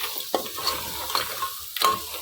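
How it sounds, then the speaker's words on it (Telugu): Coriander leaves stirred into a frying crab curry, oil sizzling softly beneath a few sharp scrapes and clinks of a spoon against the pan. "కొంచెం కొత్తిమీర వేసేసుకుని కలుపుకొని 1 నిమిషం అట్లా వేగనివ్వండి"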